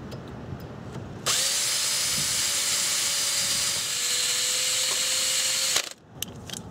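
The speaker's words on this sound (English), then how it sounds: "So we'll need to drill this out." A power drill drilling out a snapped cotter pin on a steering knuckle whirs steadily at high speed for several seconds, a close, continuous grinding whine that stops abruptly, with faint clinks before and after.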